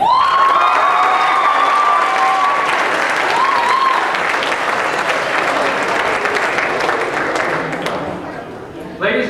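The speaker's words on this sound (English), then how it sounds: "Applause for the parents." A large audience at a 2006 NCFCA Invitational awards ceremony applauds the parents, with sustained loud clapping and some cheering and whistles that taper off toward the end.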